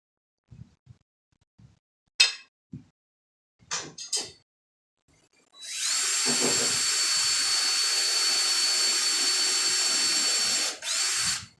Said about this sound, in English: Make sure I'm where I'm supposed to be with my drill.